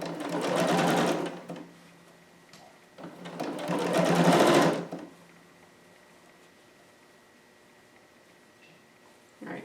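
A sewing machine stitches a harem jumpsuit (McCall's 7402) near the center front, running in two steady bursts of a couple of seconds each, loud and close, with quiet pauses between.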